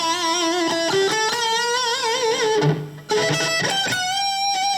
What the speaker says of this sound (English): This is the Marshall, clean, you know, without an echo.